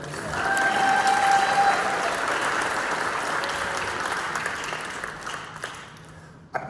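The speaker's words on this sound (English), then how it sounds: "go ahead and clap" Warm applause from an audience at a school spring band concert swells quickly and then slowly tapers, many hands clapping in a hall, ending with a few isolated claps and a brief thump.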